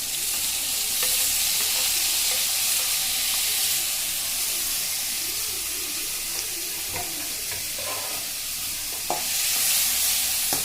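Chopped tomato fries with onions in a hot pan, giving a loud, continuous hissing sizzle with occasional stirring scrapes and a louder burst of steam near the end, no speech.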